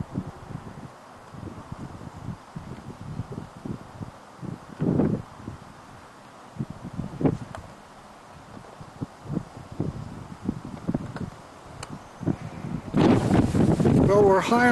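Gusty wind on a high hilltop at Stirling Castle, Scotland, buffets the microphone in uneven bursts, growing stronger and rougher toward the end.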